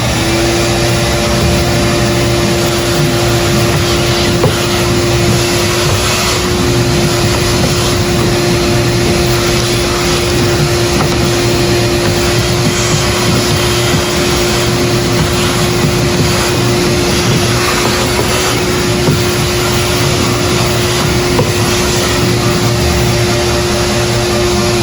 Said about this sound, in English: I'm gonna get the vacuum and vacuum this just so I can get to this.